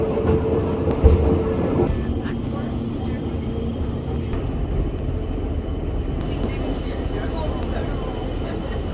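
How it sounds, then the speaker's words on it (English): A cogwheel train on the Pilatus railway in Switzerland, the world's steepest rack line, descends its track with a steady, fairly loud rumble and rolling hum throughout, plus a brief knock early on. "See, the train is coming down."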